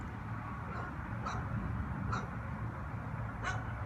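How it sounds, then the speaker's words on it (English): A dog in the background lets out a few faint, spaced yips or barks over a steady low hum, with no talking. "don't listen to that annoying dog back there"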